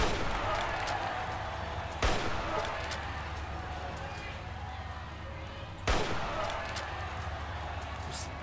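Two sharp gunshots from a firearm in Fallout: New Vegas, spaced about four seconds apart over steady game ambience, each a loud broadband crack with a short decay.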